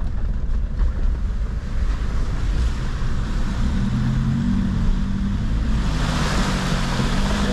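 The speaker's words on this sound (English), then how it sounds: "Alright, go drive through one river here now," A vehicle drives through a river, with a steady loud rush of churning water and low engine rumble throughout, swelling into brighter splashing toward the end, with wind noise on the microphone.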